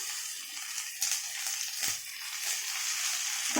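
Ingredients for potato kurma sauté in a hot pan with a continuous close sizzle, broken by a couple of brief stirring scrapes, and no talk.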